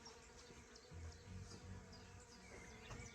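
Bumblebees work a honeysuckle bush in a garden, their low buzzing drifting close and steady with several overlapping hums rising and fading as individual bees pass by the microphone.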